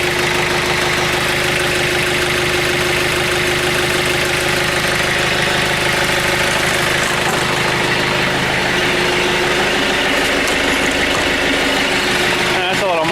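A John Deere 110 TLB tractor engine idles while warming up, a loud, steady, close diesel rumble with a rhythmic knocking throb throughout, continuing without break.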